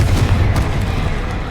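Loud booming blast from the Confringo spell in Hogwarts Legacy, a heavy low rumble with a couple of sharp impacts, filling the brief moment without any voice.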